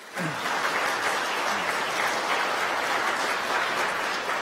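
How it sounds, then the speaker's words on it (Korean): Welcoming applause from a church congregation during a Sunday worship service, even, moderately loud clapping rising quickly and holding steady to the end. "여러분들 환영의 박수 부탁드리겠습니다"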